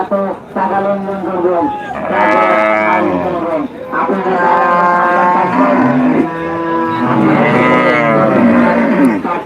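Cattle moo repeatedly and loudly in long, drawn-out calls at Bangladesh's largest livestock market, the lowing overlapping nearly continuously while a person speaks briefly over the herd.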